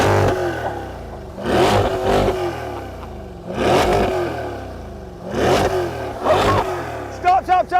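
A Chevrolet Corvette C8's naturally aspirated V8 engine revs repeatedly, four loud throaty surges climbing and falling back to a burbling idle, heard up close.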